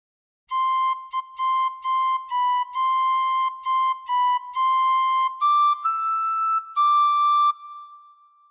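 Tin whistle plays a melody as a series of clear, pure high notes, short repeated tones giving way to longer held ones, alone and fairly close.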